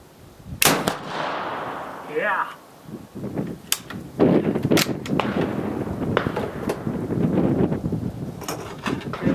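A French Chassepot rifle fires sharp, loud reports at an outdoor shooting range, each crack ringing out with a short echo, while people talk nearby between shots.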